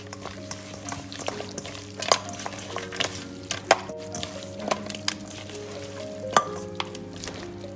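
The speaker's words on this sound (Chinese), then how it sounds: "然后用手把料汁抓拌均匀，稍微多抓拌下" Chicken pieces are kneaded by hand in a bowl with sauce and cornstarch, giving soft wet squelches and small clicking taps in an uneven rhythm over steady background music.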